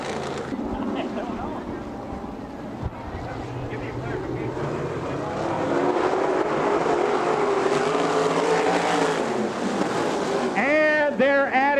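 410 sprint cars roar around an oval dirt track at Butler Motor Speedway in Michigan, a steady loud engine drone with rising and falling pitch sweeps near the end as cars pass close, under a race announcer's commentary.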